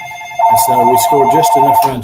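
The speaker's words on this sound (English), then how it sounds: "Sorry about the phone." A telephone rings with a repeated trilling bell pattern, several bursts in a row, sounding under and alongside someone talking in a softball program interview.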